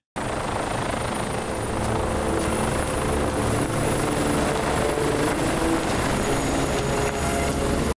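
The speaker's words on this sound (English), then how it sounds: "He even gives her a chopper." A helicopter's rotor thumps and engine roar fill a scene from the 2007 action film Live Free or Die Hard, loud, close and continuous throughout without speech.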